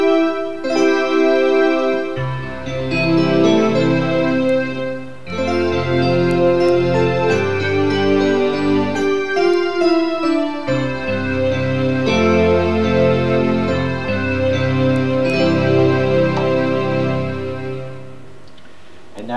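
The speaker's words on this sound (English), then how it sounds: "That's the sound of the SX that you heard, and it was played by using this M-Audio controller." Roland RD700SX keyboard sound played from an M-Audio MIDI controller, a steady run of rich sustained chords and melody lines, loud and close throughout with no talking.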